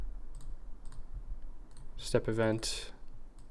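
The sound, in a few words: typing on a computer keyboard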